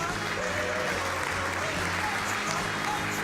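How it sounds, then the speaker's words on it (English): A studio audience on a local news talk show applauds to welcome a guest, a steady wash of clapping mixed with a low hum and a voice. "How about a big round of applause from the East Valley Tribune"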